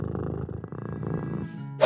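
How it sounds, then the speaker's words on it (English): A cat purrs in a low, steady, pulsing rumble for under two seconds, followed by a brief bright chime at the very end. "Yes, it's a cat's purring."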